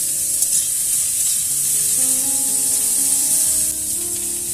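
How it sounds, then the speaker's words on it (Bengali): Cauliflower frying in a pan until light brown, a loud, steady, close hiss of sizzling oil with faint stirring underneath. "এদিকে কপিটিরও একটু লাল লাল করে ভাজলাম হালকা বাদামি করে"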